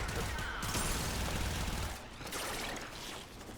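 Rapid automatic gunfire from the Soma Prime rifle in a video game, a dense continuous burst of shots lasting the whole stretch, loud and steady with a brief dip near the end.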